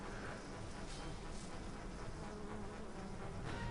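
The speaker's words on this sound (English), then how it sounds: "there's also some bees hanging around somewhere." Bees buzz in the video game Middle-Earth: Shadow of Mordor, a steady, dense insect drone that holds at an even low level throughout, with no talk over it.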